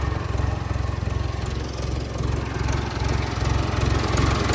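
A Case 580CK backhoe engine runs with a leaking exhaust manifold, giving a steady, close, throbbing chug with a rapid pulsing beat and a constant hiss over it, at an even level throughout.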